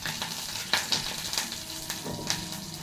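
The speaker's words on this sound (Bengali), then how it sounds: "দেখো, সর্ষে দিয়েছি, কারি পাতা আর লাল লঙ্কা, ঠিক আছে?" Mustard seeds, curry leaves and red chilli crackle in hot oil, a steady close sizzle broken by sharp pops and spits scattered throughout, with no voices.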